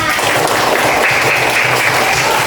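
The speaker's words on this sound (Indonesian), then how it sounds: "Tepuk tangan untuk kita semua." Steady applause from a classroom of students after all the groups have finished presenting, a dense continuous clapping that stays loud from start to end.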